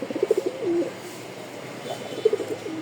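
A black pigeon coos softly in short, repeated bursts, with a pause between two phrases, heard close up against a quiet background.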